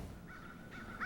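Crows caw repeatedly in a neighborhood during a police manhunt in Baltimore, Maryland, with harsh calls close by and a louder burst at the end over a steady low hum of background noise.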